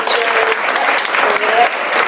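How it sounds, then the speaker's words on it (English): Audience applause at a school district board meeting, a dense, steady patter of many hands clapping close by, with a few voices mixed in. "one more round of applause for Luna"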